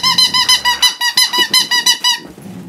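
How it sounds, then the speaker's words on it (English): A squeaky dog toy squeaks about fourteen times in quick, regular pulses as a husky chews on it, loud and close, before it stops near the end. "we found the squeaker on that one"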